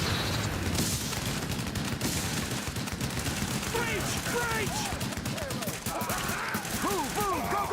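Rapid gunfire with gas rounds in The Division video game: a dense, unbroken volley of shots filling the whole stretch, with thin chirping whistles rising through the barrage near the end.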